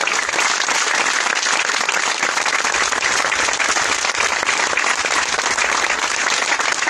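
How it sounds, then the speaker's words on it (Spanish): Loud, continuous crowd applause at the inauguration of a migrant shelter in Poza Rica, Mexico, many hands clapping in a thick, unbroken roar that holds steady for the full seven seconds. "Desde aquí le tenemos que mandar un gran aplauso y un apoyo."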